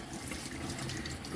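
Tap water runs into a kitchen sink while plantains are washed for a Jamaican breakfast, a steady quiet splashing stream with no talk.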